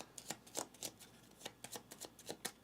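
Cards for the board game Ahau are shuffled by hand in a rapid run of soft, irregular riffles and snaps, quiet and close, with no talking.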